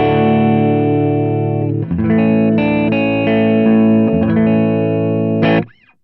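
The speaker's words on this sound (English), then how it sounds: "Using my Les Paul 1990, let's get you guys some clean tones" Electric guitar chords played on a 1990 Gibson Les Paul through a Princeton-style amplifier with a little grit, ringing sustained strums changing a few times before cutting off near the end.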